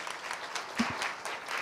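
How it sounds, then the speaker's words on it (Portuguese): A church congregation claps steadily together in sustained applause after a homily, heard from a moderate distance with no voices over it. "merece uma salva de palmas a palavra de Deus."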